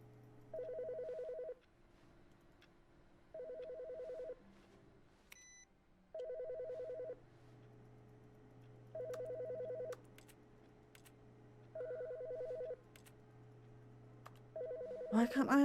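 An old telephone rings in The Stanley Parable video game, sounding repeated bursts of a double-tone electronic ring about every three seconds, fairly loud over a steady low hum, with a sharp noise at the end.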